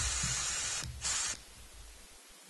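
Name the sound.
air nozzle blowing across a hole in swivel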